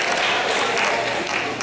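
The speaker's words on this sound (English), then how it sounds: "Shall we clap our hands to our first place," An audience at a geography quiz bee applauds the first-place champions with a brief, steady wash of clapping from a crowd of moderate size.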